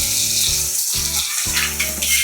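Ginger-garlic paste and green chillies sautéing in hot oil with mustard seeds and cumin for kadhi bhaji, a steady loud sizzle broken by a few brief dips, with no talking.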